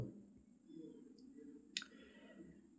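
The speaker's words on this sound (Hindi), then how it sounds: "सिंपली एठरे क्लिक करंतु" A single sharp computer mouse click while selecting a website link, heard once as a short, close, crisp tick over a quiet, faintly humming room.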